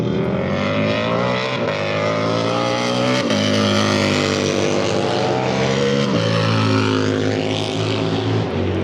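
Bagger race motorcycles roar past loudly on a racetrack, a continuous dense engine howl with shifting pitch as several bikes blast by in succession, close and overpowering with no talking.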